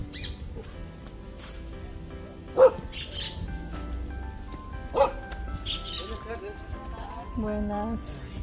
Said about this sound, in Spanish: Por aquí está un perrito.